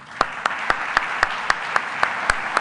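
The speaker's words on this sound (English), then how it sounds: "So let's give them a round of applause." Sparse, evenly spaced claps of a small audience at a robotics conference awards session, about ten sharp hand claps in a steady rhythm with no voices over them.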